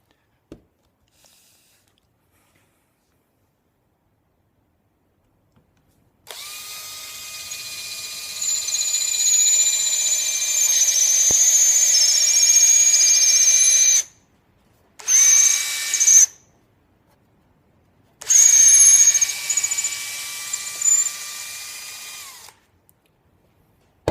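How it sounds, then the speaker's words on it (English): A loud, high-pitched power drill whines steadily while boring through a wooden pipe, stops briefly, restarts in short bursts, then runs again before cutting out; no speech. "I'm just gonna drill from the other side."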